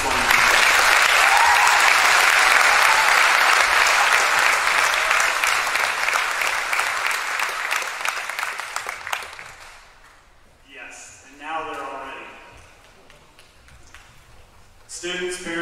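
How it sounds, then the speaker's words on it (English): At a high school graduation ceremony, a large audience gives the class of 2019 loud, sustained applause lasting about nine seconds. The clapping then thins and dies away, and a speaker resumes talking. "Let's everybody applaud the class of 2019."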